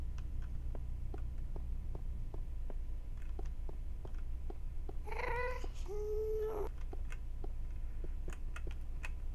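A cat meows twice in Minecraft, a higher call followed by a longer, lower one, over steady background hum and a run of regular ticking clicks.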